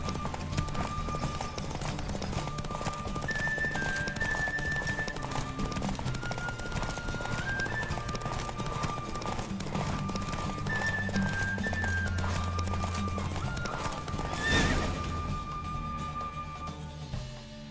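A horse gallops in a race in The Witcher 3: Wild Hunt, its steady, rapid hoofbeats close and continuous under a layer of game music, with a louder whoosh near the end.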